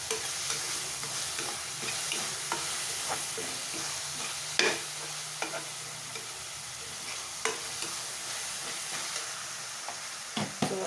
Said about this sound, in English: I will use a bit of salt to taste here to quicken the process of frying